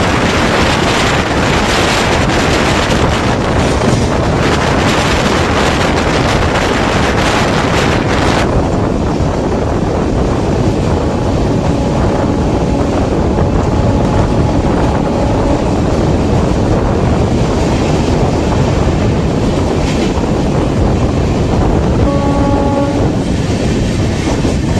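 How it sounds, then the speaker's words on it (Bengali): Sairang Express train running at a flat 110 km/h as it crosses the Lalgola–Sealdah passenger train, a loud continuous roar with wind buffeting and rail clatter, no talking. "আমাদের ট্রেন সাইরাং এক্সপ্রেসের সাথে ক্রসিং হতে চলেছে ট্রেন নাম্বার 53178 লালগোলা শিয়ালদা প্যাসেঞ্জারের"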